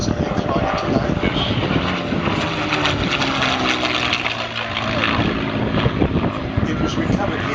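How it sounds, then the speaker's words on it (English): A propeller aircraft at the Point Cook air pageant, a loud continuous engine drone and propeller roar throughout, with a commentator talking over it. "It's being flown today by a Defence Reserve pilot, Peter Clements, I think, flying it today."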